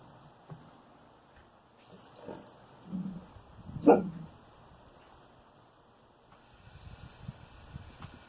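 Dog whimpering indoors at neighbor noises, soft intermittent whines and a short bark-like yelp amid quiet room sounds.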